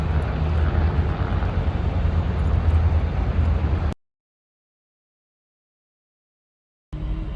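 Steady, loud aircraft engine and rotor roar close by near a helipad for a New York City helicopter tour, cutting to silence for three seconds before resuming.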